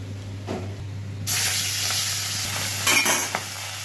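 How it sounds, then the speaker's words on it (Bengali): Fish frying one by one in hot oil in a wok: a quiet kitchen hum gives way at about a second in to a loud, steady sizzle that crackles and spits throughout, with a brief burst of spattering near the end. "মাছগুলো এক এক করে ভেজে নেব।"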